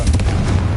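A single short, heavy boom of a Confringo fire-spell explosion in Hogwarts Legacy, loud and close, with low rumble filling the brief moment.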